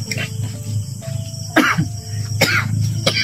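Several short, close coughs break out one after another, rough and throaty, over a quiet background of steady insect chirping, with no speech.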